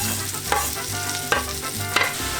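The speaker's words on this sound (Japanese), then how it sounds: "ここにニンニクと玉ねぎを入れて軽く炒める。" Garlic and onion sizzle steadily as they are lightly stir-fried in a pot for tacos, with a utensil scraping and stirring in three regular strokes, close and clear with no talking.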